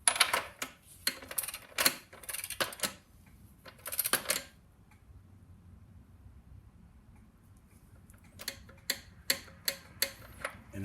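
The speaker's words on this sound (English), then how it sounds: "I'm going to get my torque wrench out" Torque wrench tightening the rear wheel nut of a Yamaha R1M motorcycle to 68 foot-pounds, heard as sharp metallic ticks and clicks in short bursts, then a quiet pause, then a further run of evenly spaced clicks.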